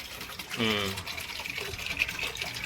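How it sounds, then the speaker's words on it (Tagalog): Water gushes and splashes as the water in a small backyard fountain pond is changed, a short burst of pouring under a person talking. "Kaya palit tayo ng tubig."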